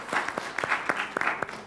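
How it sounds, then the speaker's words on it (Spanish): A small audience at an informal arts talk in Punta Arenas claps briefly, with a sparse, uneven patter of separate hand claps. "un aplauso para ustedes por haber venido para acá"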